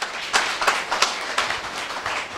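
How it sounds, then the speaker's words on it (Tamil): A Tamil society festival audience claps in several loose bursts, fairly faint and slightly distant, with uneven rhythm and no talk over it. "சபையோர் அங்கே ஒரு தரம் கரகோஷம் எழுப்பி"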